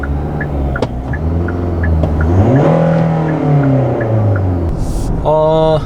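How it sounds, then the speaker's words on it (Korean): A Kia Sorento MQ4 with the 2.2 diesel Smartstream D engine and 8-speed DCT revs up and slowly falls back, its engine note rising and sinking loudly inside the cabin, with a faint regular ticking and a short burst of noise near the end. "악셀을 밟았을 때의 이 RPM이 반응하는 속도는 상당히 빠르고요"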